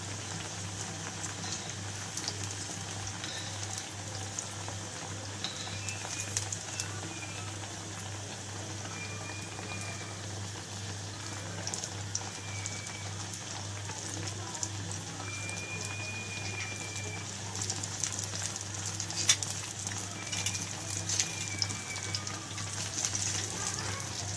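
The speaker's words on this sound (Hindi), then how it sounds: "अच्छे तरीके से आपने फ्राई करना है ताकि ये कच्चा ना रह जाए अंदर से।" Eggplant pakora fry in hot oil, giving a continuous fine crackling sizzle. A steady low hum sits underneath it the whole time.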